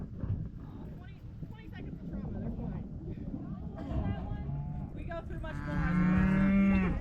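Cattle moo loudly and repeatedly near the end of a ranch roundup, as a secured cow is handled for vaccines, deworming and ear tagging; people talk and cattle shuffle around beforehand.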